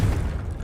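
A Confringo blasting spell from Hogwarts Legacy erupts as a single loud, deep boom with a rumbling low-end tail, fading over under a second.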